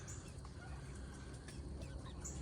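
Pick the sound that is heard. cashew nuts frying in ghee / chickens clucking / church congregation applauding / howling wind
chickens clucking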